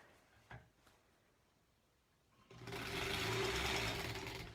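Domestic sewing machine stitching quilt-as-you-go blocks, starting after a quiet stretch with a couple of soft knocks, then running steadily and fairly loud with a dense mechanical whir to the end.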